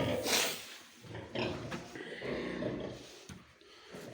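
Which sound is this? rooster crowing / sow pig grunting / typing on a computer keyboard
sow pig grunting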